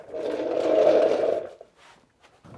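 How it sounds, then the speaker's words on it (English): An engine starting up inside a garage, a loud rough roar that swells for about a second and a half, then cuts out, leaving near silence and a few faint knocks. "I'm gonna start the engine."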